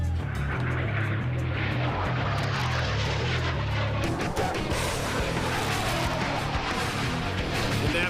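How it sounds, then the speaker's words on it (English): A new Swedish Air Force fighter jet on a test flight roars steadily overhead, a loud, continuous engine drone with a low rumble that holds for several seconds without any voices. "The Swedish Air Force is breaking in their newest fighter jet."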